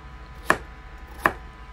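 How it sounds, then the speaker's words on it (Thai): A knife cuts home-grown pumpkin into bite-size pieces, giving two sharp, separate chops onto a cutting board about three-quarters of a second apart, close and distinct over a quiet room. "แล้วก็หั่น เป็นชิ้นพอดีคำนะคะ"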